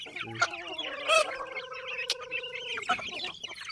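A chicken clucks on a rural farm, a few close, drawn-out clucking calls and squawks over a quiet outdoor background, with a faint voice in the distance.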